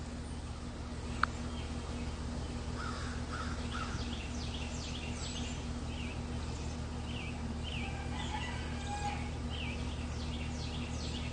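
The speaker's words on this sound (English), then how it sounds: "Got birds everywhere." Crows caw repeatedly at a distance over a steady low hum, with a few scattered bird calls mixed in.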